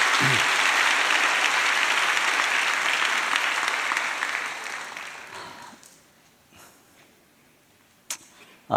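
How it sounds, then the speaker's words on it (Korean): A church congregation applauds after a drama performance at a Sunday service, a broad, loud wash of clapping that fades over several seconds into near silence with a couple of faint knocks. "우리 박수 한번 드리도록 하겠습니다."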